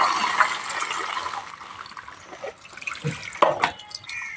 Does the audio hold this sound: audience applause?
no